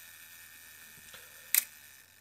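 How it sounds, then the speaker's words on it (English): A Baby Rolleiflex twin-lens camera fires its shutter on self-timer, a single quiet, crisp click standing alone against a faint background hum after a soft mechanical tick. "That's the shutter just fired"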